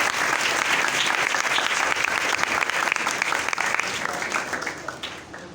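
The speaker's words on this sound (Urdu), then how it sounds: "زوردار تالیاں" A church congregation breaks into loud, sustained applause, dense clapping filling the hall at full strength and then tapering slightly toward the end.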